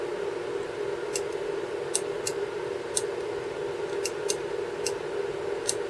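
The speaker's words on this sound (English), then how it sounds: "This one's really clicky, this mic switch" Sharp, isolated clicks from the microswitch inside a Drayton MA1 mid-position valve actuator, roughly ten of them spaced irregularly over a steady background hum.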